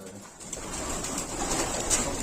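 Pigeons coo steadily at close range, adult birds with their young in a loft in Sakarya, their soft repeated calls running through the whole short stretch with no talking.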